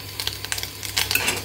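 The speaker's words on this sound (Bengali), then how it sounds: "শেষ আমার ডিম ভাজা" An egg frying in a pan with dal cooking alongside, giving a steady close sizzle with small crackles and faint stirring scrapes, no talking.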